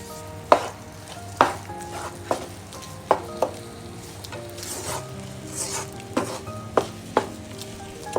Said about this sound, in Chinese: 煮至它浓稠的样子，慢慢翻炒一下。